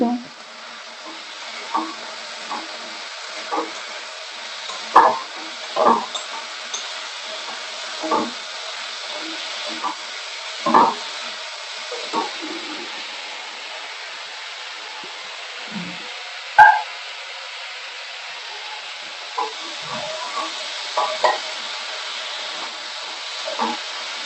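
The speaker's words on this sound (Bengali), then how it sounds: "আলুটা দিয়ে মশলাটা ভালো করে কষিয়ে নিচ্ছি।" Potatoes with spices and small mourola fish sizzle in oil for a fish curry, a steady low hiss broken by repeated scraping stirs of a spatula against the pan, close and fairly loud.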